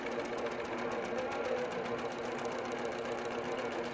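An Intelliquilter longarm quilting machine stitches at a slow speed, giving a steady, even mechanical hum with fast regular ticking that carries on without a break, with quiet talk faintly underneath.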